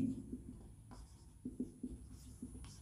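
Chalk or marker scratches across a board during a physics lecture on magnetism, making short, faint strokes that come in quick bursts in a quiet room.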